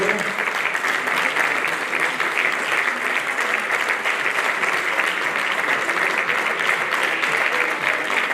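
Loud, sustained applause from the audience at the Galician Mountaineering Federation (FGM) 2026 mountaineering gala, as a municipal representative from Crecente is recognised. The dense clapping runs steadily throughout.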